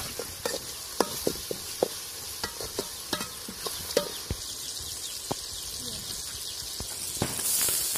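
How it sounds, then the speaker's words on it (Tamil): Ginger-garlic paste and onions being stirred and sautéed in a pan for country chicken gravy, a low continuous sizzle broken by sharp scraping clicks of the spoon at an uneven rhythm, close by, with a voice talking over it. "நல்லா வதங்குற அளவுக்கு நல்லா கிண்டிக்கணும்"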